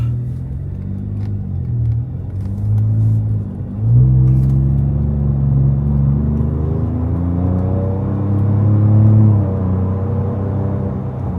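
A pickup truck fitted with Rough Country V2 shocks drives along with a steady low engine rumble and road whir, the engine note rising and falling through gentle acceleration, with no talking.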